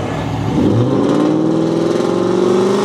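Dodge Challenger drag car at a drag strip, its engine revving loud and close as the pitch climbs steadily in one sustained, rising roar.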